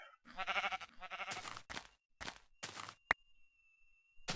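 A brown sheep bleats once in Minecraft, a wavering nasal cry, followed by several short crisp snipping and rustling sounds of shears, a sharp click and a thin whistling tone.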